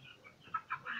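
Baby chick peeping, a few faint, high, short chirps close by in a quiet setting, lasting about a second.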